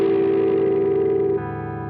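An electric guitar plays through an Axe-FX FM9 as an effect slowly engages. A sustained distorted note rings steadily, then its tone shifts noticeably about halfway through and carries on, heard alone.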